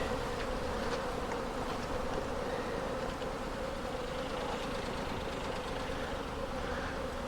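Honey bees swarm and buzz around an opened hive during feeding, a dense, steady, close drone that holds unbroken the whole time with no talk.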